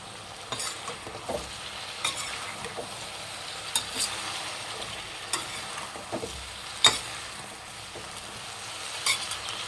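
A vangi bath mixture of rice and brinjal, just salted, is stirred in a pan: a soft continuous sizzle broken by repeated scraping strokes and light clicks at an irregular rhythm.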